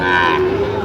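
A cow lets out a single loud, close moo, a drawn-out low bellow lasting under a second, at a Sahiwal cattle farm in Chattogram, Bangladesh.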